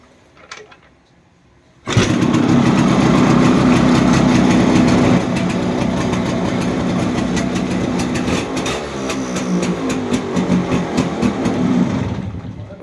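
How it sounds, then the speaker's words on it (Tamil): A Yamaha RX 135 motorcycle engine fires up after a brief quiet moment, then idles loud and close with a busy, uneven rattle and slight rises in revs toward the end. "மறுபடியும் வண்டியை ஆஃப் பண்ணிவிட்டு மறுபடியும் வண்டியை வந்து ஸ்டார்ட் பண்ணி பார்ப்போம்"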